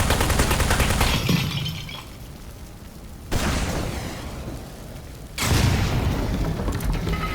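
Gunfire in the video game Aperture Desk Job: a loud burst of repeated shots fills the opening second, a quieter stretch follows, then a second heavy volley of rapid booming shots starts mid-clip and carries to the end, with no talking.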